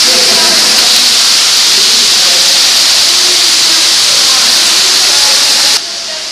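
Waterfall inside Marvel Cave, a loud, steady broadband roar of rushing water that drops off abruptly near the end.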